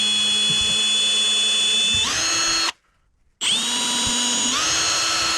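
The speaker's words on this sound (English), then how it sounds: "Now we're going to drill" Power drill boring holes while installing magnetic door stops: a loud steady high whine that rises in pitch, stops for under a second, then resumes and climbs again, close and alone.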